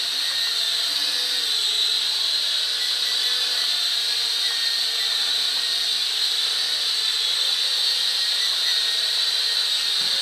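A Lishi Toys L6039 toy aircraft flies and pirouettes at night, giving a steady high-pitched whine of small electric motors and props that holds constant and fairly loud throughout.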